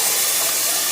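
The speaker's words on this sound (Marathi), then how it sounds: "आता पाणी घालूया." Water poured into a hot pan of masoor dal khichdi sets off a loud, close, sustained steam hiss and sizzle, steady throughout with no talk.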